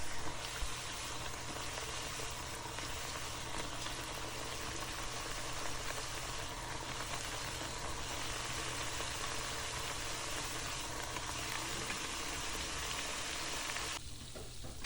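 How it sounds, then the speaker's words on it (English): Tortillas frying in hot oil in a pan over medium-high heat give a steady, dense sizzle that bubbles continuously at close range with no voices, ending with a slight drop near the close. "I fry the tortillas until I get a nice brown color"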